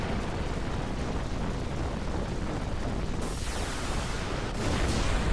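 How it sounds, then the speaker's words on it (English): Explosions in the video game Final Fantasy IX, a continuous dense roaring blast that fills the whole clip, loud and close, swelling slightly louder near the end with no talk over it. "You got like Bahamut's explosions, Necron's explosions."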